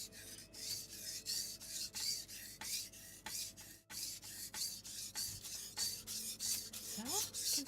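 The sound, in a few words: sharpening a blade on a whetstone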